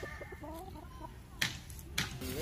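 Chickens clucking and a rooster calling nearby at a chicken farm in La Union, with short repeated clucks and squawks over a low outdoor background and two sharp clattering bursts.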